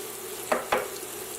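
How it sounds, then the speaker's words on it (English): Tomatoes searing in a pan with red bell pepper, a steady soft sizzle broken by two quick stirring scrapes, no talking. "And we're going to sear it."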